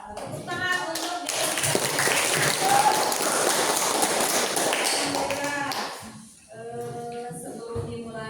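A classroom of pupils claps hands together in a sustained burst of loud, dense applause at a teacher's call, fading out near the end as a teacher's voice and chatter resume.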